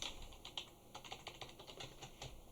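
Quick, steady typing on a computer keyboard while working in Python with pandas, a continuous run of close, light key clatter with small bursts and pauses.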